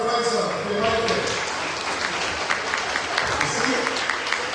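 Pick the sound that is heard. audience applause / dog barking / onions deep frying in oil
audience applause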